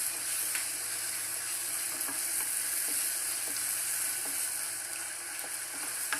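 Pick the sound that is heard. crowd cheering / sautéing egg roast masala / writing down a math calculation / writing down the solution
sautéing egg roast masala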